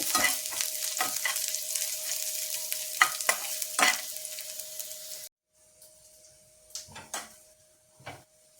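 Fenugreek seeds and shallots crackle and sizzle in hot oil in a pan with a steady hum, broken by sharp scraping stirs; the sizzle drops away midway, leaving a few clattering stirs.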